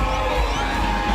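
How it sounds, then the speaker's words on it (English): A crowd cheering loudly and steadily, with excited shouts blending into a continuous roar. "Even inside theatres, fans started cheering and whistling as SRK made his entry on the big screens."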